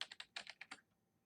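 Quick bursts of close, faint clicking keystrokes on a computer keyboard, about seven taps in under a second before falling quiet.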